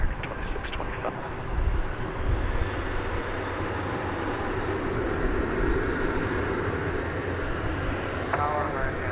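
A jet airliner rolls for takeoff on runway 18 Left at Dallas/Fort Worth International Airport. A broad, sustained engine roar fills the air at a steady level from a distance, while faint radio chatter comes and goes underneath.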